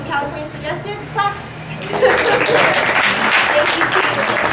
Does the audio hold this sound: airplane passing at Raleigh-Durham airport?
no